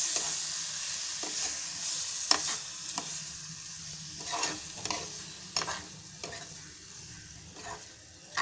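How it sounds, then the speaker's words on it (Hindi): A spoon stirs spiced tomato chutney in a pan over gas, with repeated scraping strokes over a quiet, steady sizzle and no voices. "इसे अच्छे से मिक्स करते रहें"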